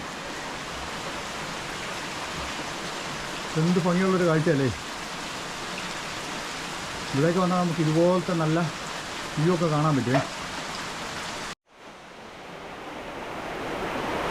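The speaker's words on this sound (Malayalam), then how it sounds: "മുല്ലപ്പെരിയാറ്റിൽ മഴ പെയ്യുന്നു" Steady rain falls at the Mullaperiyar dam area in Idukki, Kerala, hissing evenly throughout as a person talks over it in several short stretches; the sound cuts out abruptly near the end, then resumes.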